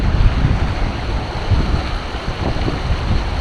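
Fast-flowing river water at about 25 km/h during a river rescue training session in Tanay, heard as a loud, continuous rushing wash with rough low-end rumble and no voices.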